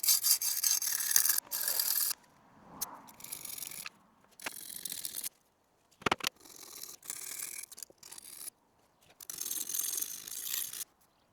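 A kitchen knife blade is rubbed in strokes across a sharpening stone, giving bursts of raspy scraping separated by short pauses, close and fairly quiet, with no talk.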